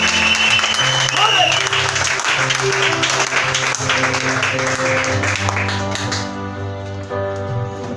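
A church congregation applauds with sustained clapping under music and voices, the applause gradually thinning toward the end.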